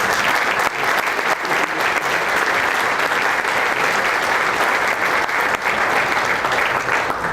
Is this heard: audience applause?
yes